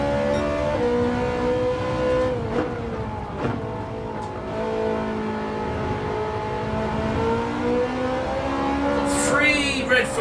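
Red Ferrari race cars battling on track in Gran Turismo 7, a steady high engine drone with rising and falling pitch as they lift and accelerate, several engines layered close together throughout.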